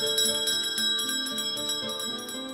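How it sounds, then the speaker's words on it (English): A bell tolls in a dramatic stage setting, its steady ringing strokes repeating with a sustained metallic hum. Other tones sit under it, and no voices are heard. "The bell invites me."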